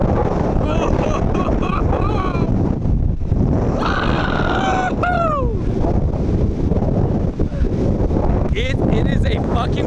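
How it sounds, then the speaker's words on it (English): Strong gusting wind during a rainstorm buffets the microphone with loud, continuous roaring noise, joined by rushing rain; a voice speaks briefly and shouts partway through. "Yo, it's so windy."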